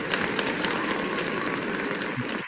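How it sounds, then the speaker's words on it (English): A round of applause sound effect fills the stream, a dense, steady patter of clapping at moderate loudness with no pauses and no voices over it. "we'll give you a round of applause for that."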